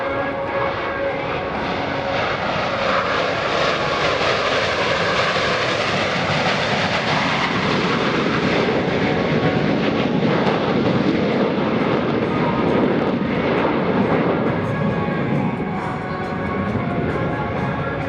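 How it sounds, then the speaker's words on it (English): US Navy Blue Angels Diamond formation of jets roaring past at the 2018 NAS Oceana airshow, a loud sustained rumbling jet roar that swells and fades over many seconds. "The Blue Angel Diamond will momentarily be making its approach from the right."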